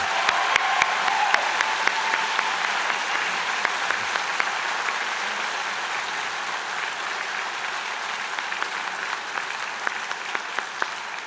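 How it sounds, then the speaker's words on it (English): A convocation audience for a business, media and entertainment school applauds at length, a dense, steady wash of many hands clapping that holds evenly for about eleven seconds with no voices over it. "So how about a huge round of applause and thanks to Lori"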